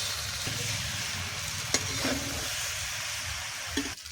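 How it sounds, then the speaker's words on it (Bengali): Chicken pasta with dried chili and chopped tomato is stirred in a frying pan, a steady close sizzle running throughout with a few soft scrapes of the utensil against the pan. "সুন্দর করে সবকিছু একলগে উপকরণগুলি মিক্স করে নিতেছি"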